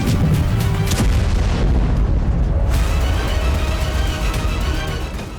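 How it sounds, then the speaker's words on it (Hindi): Russian FAB-500 bombs strike in southern Donetsk, heavy deep booms rolling into one long loud rumble that fades slowly, with no one speaking. "रूस ने इतना बारूद बरसाया है कि बड़ा इलाका धुआं-धुआं हो गया।"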